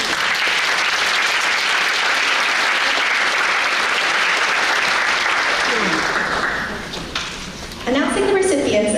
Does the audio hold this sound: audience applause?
yes